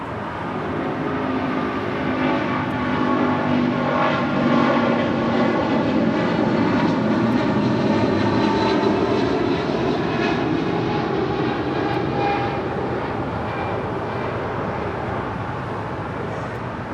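A Polar 962 heavy jet landing on runway 25 left at LAX, its engines a steady, loud roar with a rising whine, close and sustained, with no talk.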